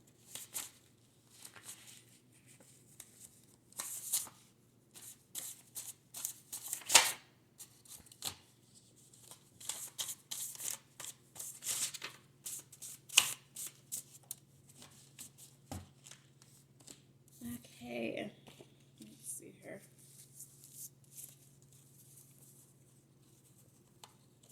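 Tarot cards are shuffled in close, irregular bursts of riffling and patter, quiet and papery, with pauses between handfuls.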